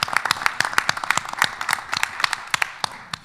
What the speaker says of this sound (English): Y'all, we have to clap for that